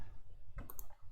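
A microphone cable knocking against the zip on a top, giving a quick cluster of light clicks and taps close to the mic around the middle of a quiet moment, with no talking.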